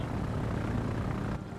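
Carrier-launched aircraft in World of Warships drone steadily with a dense propeller roar, loud and unbroken, no voices over it.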